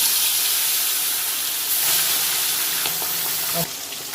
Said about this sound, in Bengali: তেলটা আমার গরম হয়ে গেছে আমি এক এক করে মাছগুলো দিয়ে আমি ভেজে নেব